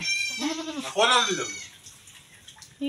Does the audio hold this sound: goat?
yes